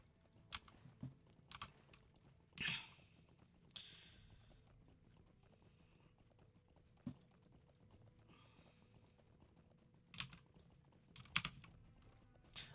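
Typing on a membrane computer keyboard during a gaming session, with scattered soft clusters of keypresses and a few louder bursts spread across a quiet background, no talk.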